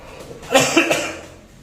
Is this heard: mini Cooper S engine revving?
no